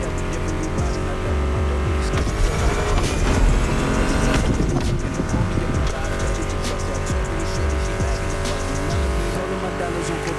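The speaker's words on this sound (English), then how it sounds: "Meshes well with the sound of the engines, you feel me?" Car engines revving and roaring in The Crew Motorfest racing video game, loud and continuous under a music soundtrack, with tire squeals and shifting engine pitch.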